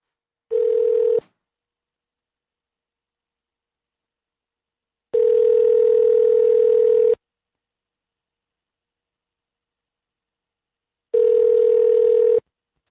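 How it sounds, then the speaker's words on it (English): Steady telephone dial tone in three long bursts separated by silences, loud and close, heard while placing a call over the phone line, with no voices. "I'm going to go ahead and give Greg a call"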